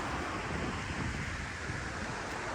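The River Don flows at Oughtibridge in Sheffield, a steady broadband rush of water mixed with wind noise, constant and fairly faint, with no talking.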